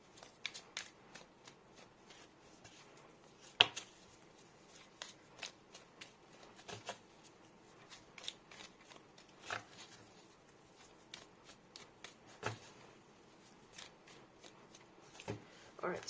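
A deck of tarot cards is shuffled in soft, rapid flicks and riffles, close but faint, in irregular bursts spread across a quiet stretch.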